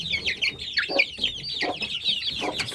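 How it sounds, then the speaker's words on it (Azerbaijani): Five roosters penned together after fighting cluck and call steadily, a dense overlapping chorus of short squawks and chatter close by, with no one speaking. "Burada 5 tane xoruz var."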